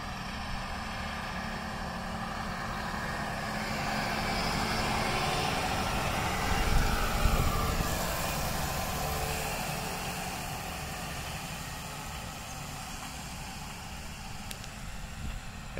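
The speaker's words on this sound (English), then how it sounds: "Here comes the other fogging machine," A crop sprayer fogging machine, a 4060, runs continuously across a lentil field as a steady broadband engine roar with hiss. It swells slightly near the middle as it passes, and no voices come through.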